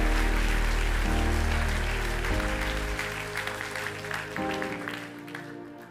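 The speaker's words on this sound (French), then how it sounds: "Pourquoi tu acclames doucement? C'est parce que ton voisin acclame doucement." A church congregation applauds softly during a charismatic sermon on the Holy Spirit, a steady wash of clapping that stays fairly even, with low sustained music or organ underneath and no talk.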